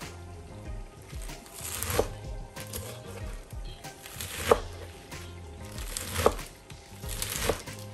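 Soft spinach leaves chopped with a knife for a lamb curry: a slow, uneven series of quiet cutting taps, roughly one every couple of seconds, over light rustling.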